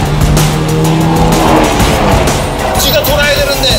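A Hyundai Avante N Cup race car is driven hard on a circuit, its engine roaring steadily up close with shifting pitch, tires squealing and skidding through corners, and someone talking over the continuous noise.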